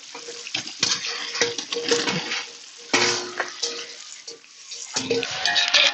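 Oyster mushrooms stirred into biryani masala in a pan for mushroom chicken biryani, with repeated scraping and clattering of the spoon against the pan and some wet sizzling, close and steady.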